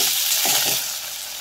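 Ginger and garlic paste frying with spices over browned onions for dhaniya chicken, a loud close hiss and crackle of hot oil with a brief stir partway through.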